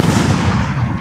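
Niagara shot firework bursting high overhead, a dense crackling roar of many small loud bangs that runs without a pause.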